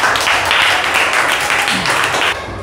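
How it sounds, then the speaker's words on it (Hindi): Classroom audience clapping for a student named Riya Kumari during a math quiz, a loud, dense burst of applause that holds steady before tapering off near the end. "रिया कुमारी के लिए एक जोरदार ताली होना चाहिए"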